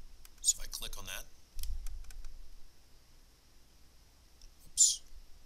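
A few sharp computer mouse clicks in the Kodu game editor menu, crisp and close, scattered across a few seconds with a soft voice speaking early on.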